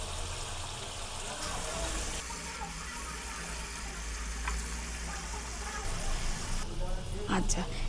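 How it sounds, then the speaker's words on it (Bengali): Spice-rinsing water is poured from a bowl into a pan of Bengali rui fish curry, giving a gushing, sizzling wash of liquid that runs steadily for several seconds with a voice speaking underneath. "যেটার মধ্যে আমার মশলা ধোয়া জলটা ছিল সেটা আমি হাফ বাটি এটার মধ্যে একটু দিয়ে দিচ্ছি"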